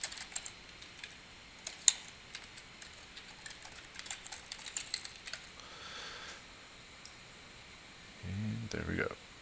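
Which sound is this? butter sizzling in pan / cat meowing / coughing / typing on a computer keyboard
typing on a computer keyboard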